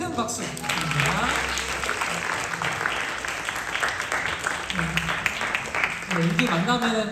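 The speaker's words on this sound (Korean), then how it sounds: "여기 내려갈 때 큰 박수 부탁드립니다." A young adults' church worship gathering breaks into loud, sustained applause, a thick wall of clapping that is joined by voices and sustained tones near the start and end.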